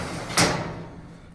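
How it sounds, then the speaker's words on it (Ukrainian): A stainless steel kitchen cabinet door shuts with one short, sharp metallic knock, close by, then a quiet fading tail in a still room. "Дверцята працюють ідеально, не клинять."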